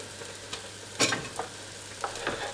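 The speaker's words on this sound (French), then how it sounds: "on va mettre les morceaux de pommes que j'ai coupés dans la poêle." Apple pieces sizzle softly in a frying pan for pheasant with apples, with a few sharp clacks and stirring scrapes over the steady frying.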